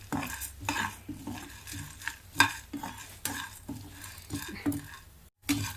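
Bitter gourd stuffed with spiced powder being fried golden in a pan, with repeated scraping and stirring clinks of a utensil against the pan over a soft sizzle, close and fairly quiet.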